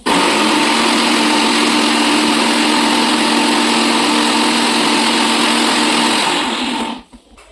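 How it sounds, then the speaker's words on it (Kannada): A mixer grinder blending coriander, chilli, garlic and ginger whirs loudly and steadily at close range for about seven seconds before the motor cuts off and winds down. "ಮಿಕ್ಸಿಯಲ್ಲಿ ಮಿಕ್ಸ್ ಮಾಡೋಣ"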